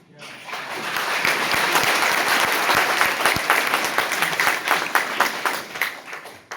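Applause from an audience at a seminar in Ayodhya, a dense steady crackle of many hands clapping that swells quickly, holds loud for several seconds and then thins out toward the end.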